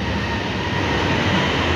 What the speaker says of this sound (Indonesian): di LRT Maluri, suasana kereta api masih lancar, berjalan seperti aktivitas biasa